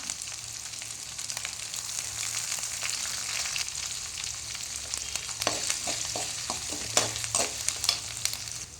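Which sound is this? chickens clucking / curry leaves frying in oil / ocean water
curry leaves frying in oil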